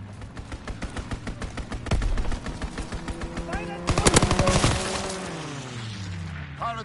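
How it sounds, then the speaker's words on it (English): Strafing-run gunfire in a PS4 video game: loud, rapid machine-gun bursts in a steady stream, swelling into a dense barrage with cracks and a fading engine-like drone at the end. "Strafing run inbound."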